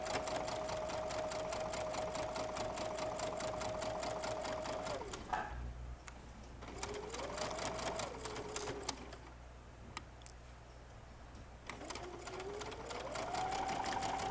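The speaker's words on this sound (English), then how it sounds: "I'm going to take it away, and then I'm going to continue on sewing right on through." A sewing machine stitching a quilt seam for a wall hanging, running in a steady fast whirring rhythm, pausing twice briefly before starting up again.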